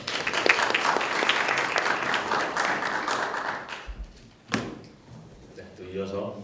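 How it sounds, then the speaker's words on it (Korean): Sustained applause from an audience at a Korea University Sejong Campus student election public hearing for several seconds, then it fades out, followed by a sharp knock and a voice beginning to speak. "큰 박수 부탁드립니다."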